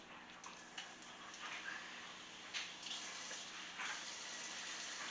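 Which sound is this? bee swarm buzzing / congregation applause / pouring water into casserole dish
pouring water into casserole dish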